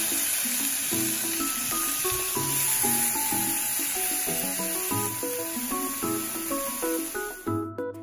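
Chicken for a kebab pita sandwich sizzles steadily in a hot pan, a continuous close frying hiss running beneath background music throughout.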